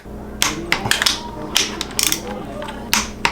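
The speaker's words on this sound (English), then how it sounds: "you can change over to the 3/8 torque wrench, put it to 250 inch-pounds" A 3/8-inch torque wrench tightens a bolt to 250 inch-pounds on the timing belt back cover of a 2.4L turbo Neon SRT-4 / PT Cruiser GT engine, giving a handful of sharp, close ratcheting clicks in quick bursts.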